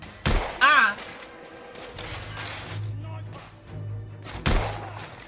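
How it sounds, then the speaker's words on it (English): Gunfire in The Order: 1886 shooter game, a couple of loud sharp shots at the start and again near the end, with low rumbling game ambience between and a voice briefly heard. "They're shooting me from down there."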